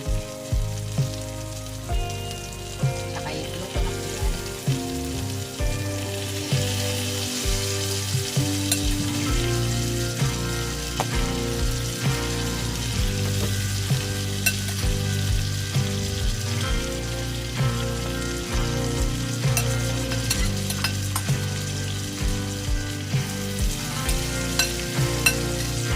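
Onion and garlic sizzle and crackle in a hot pan for salmon, a steady frying hiss with occasional stirring pops, set under background music.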